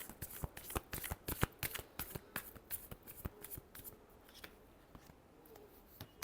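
Tarot cards being shuffled by hand, a close, crisp series of rapid riffling flicks and taps in an irregular rhythm that thins out toward the end, with no voice.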